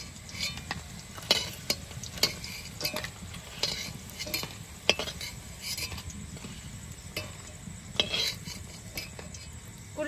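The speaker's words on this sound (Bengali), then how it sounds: "বাকি কুলি পিঠেগুলো এভাবে ভেজে নেব।" Kuli pithe fry in a pan with a soft sizzle, and a utensil scrapes and taps against the metal at irregular moments. It is faint and close, with no talk.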